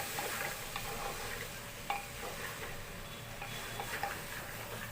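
Potatoes and chickpeas stir-fry in a pan for chana masala: a steady sizzle with scraping of the spatula and occasional sharp clinks against the pan, no talking.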